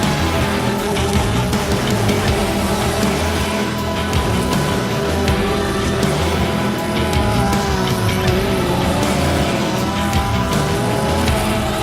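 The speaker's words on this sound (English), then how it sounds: "Beeler now looking to the outside of Woody off the turn number 4" Dirt track race cars roaring around an oval at an Action Track USA event, a loud dense wall of engine noise with overlapping revving and tire scrub, continuous and close.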